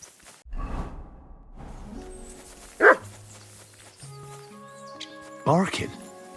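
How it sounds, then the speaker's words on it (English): Dog barking in the video game Kingdom Come: Deliverance II, two sharp separate barks rising over a soft musical score with low thuds and whooshes, while a voice talks in the scene. "Barking."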